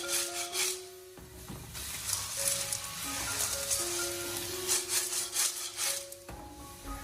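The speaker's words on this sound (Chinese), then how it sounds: "将它快速的翻炒几下" River snails with bean paste being stir-fried in a wok, a steady scraping and rubbing of the spatula with a faint sizzle underneath, continuous and close over several seconds.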